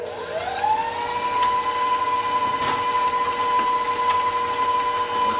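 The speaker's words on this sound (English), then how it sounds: "I'm going to just mix that a little bit more." An electric mixer whirs through creamy cheesecake filling made with condensed milk, its motor rising in pitch as it spins up, then holding a steady loud whine with faint clicks of beaters.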